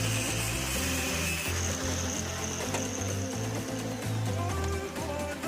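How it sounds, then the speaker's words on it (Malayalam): A metal-cutting blade grinds into a coconut, making a rough, continuous rasping and whirring buzz that holds steady and loud for several seconds with no speech. "നമ്മൾ ഇത് വെച്ച് മെറ്റൽ കട്ട് ചെയ്യുന്ന ബ്ലേഡ് വെച്ച് കട്ട് ചെയ്തപ്പോൾ ആയി"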